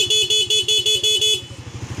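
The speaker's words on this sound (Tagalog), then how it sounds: "Ito yung kanyang busina." A Suzuki Raider 150 Fi motorcycle horn, wired through a Honeywell switch, beeps in rapid pulses of about six short toots, loud and close over the idling engine, which carries on alone after the horn stops.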